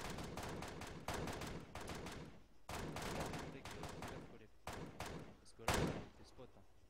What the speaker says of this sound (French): Les coups de feu qui étaient très nourris venaient de cette même colline.